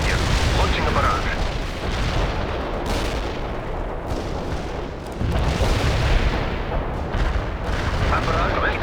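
Artillery barrage in the video game World in Conflict: a continuous, dense rumble of heavy booms and blasts, loud and sustained without pause, with a short dip midway, and radio-style voices faintly underneath.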